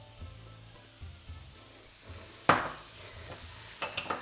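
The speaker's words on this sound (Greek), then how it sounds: "Ανακατεύω" Mushrooms and spinach are stirred in olive oil in a pan, giving a soft sizzle under gentle scraping strokes, with one sharper clatter of the utensil midway and a few light taps near the end.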